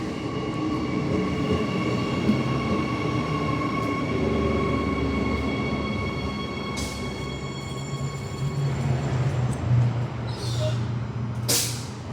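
An electric passenger train on the Cockburn line near Perth rumbles steadily along the tracks with a constant electric whine, punctuated near the end by brief hissing bursts of air brakes.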